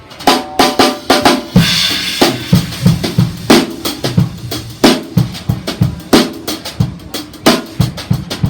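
A drum kit plays a steady, driving eighth-note groove with sharp snare and cymbal hits recurring evenly, loud and close.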